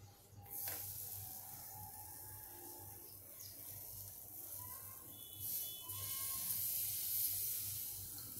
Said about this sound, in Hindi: ये दूसरी भाकरी मैं तवे पर डालती हूँ।